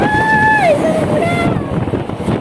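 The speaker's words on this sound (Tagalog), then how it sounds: "sobrang lakas ng hangin ngayon" Strong typhoon wind from Typhoon Rolly roars steadily against the microphone around a nipa house, loud and continuous, with a voice speaking over part of it.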